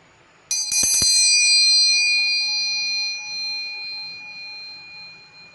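A single bright bell rings out after a quiet start, then its tone lingers and slowly fades over several seconds.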